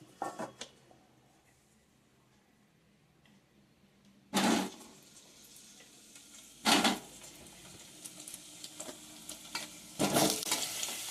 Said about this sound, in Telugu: ఇప్పుడు మనం ఈ గుమ్మడికాయ ముక్కలు వేసుకుందామండి